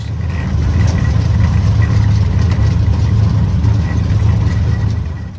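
A 1932 Ford car engine runs on a short drive to a gas station, a low, rough, steady rumble with slight throttle swells, loud and close, no voices.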